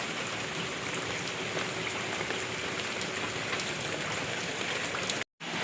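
Heavy rain pours steadily in a dense, constant hiss of drops on surfaces, loud and unbroken, cutting off abruptly near the end.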